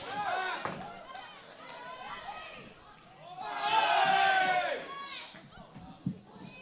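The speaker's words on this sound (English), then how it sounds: "Certainly hear the excitement in the crowd building here." A crowd at a women's first division football grand final cheers and shouts in swelling waves. The crowd noise peaks loudest midway through, and voices are heard over it.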